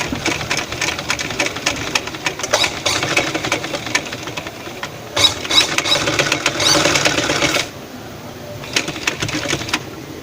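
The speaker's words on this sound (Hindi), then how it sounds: "इनको सीधी सिलाई लगा देंगे।" A sewing machine runs a straight seam to attach dori magzi trim, with a steady rapid mechanical rattle in several runs that stops near the end, loud and close.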